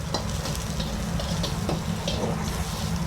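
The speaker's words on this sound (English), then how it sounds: "Fry the ingredients so all the flavors release, especially the lemongrass." Lemongrass and garlic fry in hot oil in a wok, a steady close sizzle broken by scrapes and clacks of stirring.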